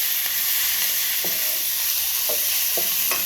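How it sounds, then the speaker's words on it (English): Spicy quail with vegetables is stir-fried in a hot pan, making a constant loud sizzle with a few sharp clatters as the food is stirred and tossed. "Stir fry it."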